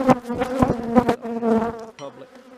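Honey bees from a defensive colony in Virginia buzz in a dense, wavering drone, loud and close, with pitch rising and falling as individuals swirl near, then thinning briefly before settling.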